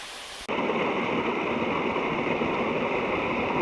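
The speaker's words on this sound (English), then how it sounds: "apparently this is the longest waterfall in Shenandoah" A long waterfall in Shenandoah National Park roars with a broad, steady rush of falling water that starts abruptly and then holds loud and constant, with no voices.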